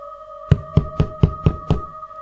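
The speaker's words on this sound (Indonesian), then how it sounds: "terdengar suara ketukan pintu menghentikan obrolan mereka" Six firm knocks on a wooden door land in a quick, even sequence, close and distinct over a faint steady hum.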